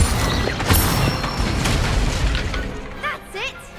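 A fire spell is cast in Hogwarts Legacy with a loud whooshing boom and crackling burst up close, the flare fading quickly as a voice speaks over it.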